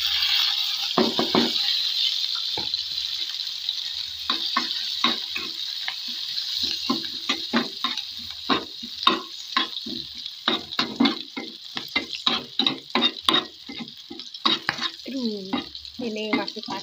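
Selong leaves fry in a pan with a continuous bright sizzle, while a utensil stirs and scrapes against the pan in frequent close taps.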